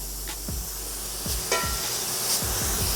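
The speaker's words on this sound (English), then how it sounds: "we're gonna let them sear for about another 2 minutes on that side" Pork chops searing in a hot pan, pan-fried with butter: a steady loud sizzle and hiss close up, with a few soft utensil knocks scattered through it, no talking.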